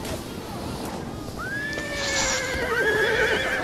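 In a Total War: Attila battle, a horse whinnies with a rising, wavering call over a steady rumble of battle noise and hoofbeats, joined by further neighs that grow louder toward the end.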